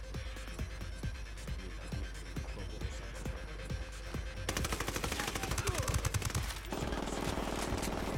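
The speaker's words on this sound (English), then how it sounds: "so pretty good covering fire" Teammates' covering gunfire in Ghost Recon Wildlands, rapid automatic bursts and repeated shots cracking through the game soundscape, intensifying into dense continuous fire near the end, fairly loud.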